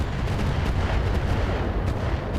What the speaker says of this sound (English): Are those mortars?